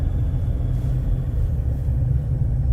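A 2023 Jeep Gladiator with a 3-liter diesel engine rumbling on a drive, heard from inside as a continuous low, steady drone with little variation and no talk over it.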